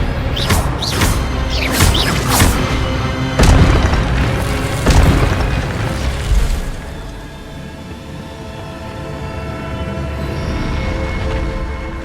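Expelliarmus spell cast in the Hogwarts Legacy video game, a loud booming burst with several crackling impacts over the first seven seconds that then fade into a low, sustained magical hum.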